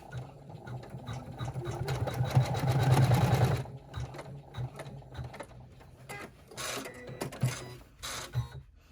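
An embroidery machine stitching a pleat mark on a thick pleated purse, a fast rhythmic mechanical stitching run that builds and then stops, followed by quieter intermittent bursts of machine noise.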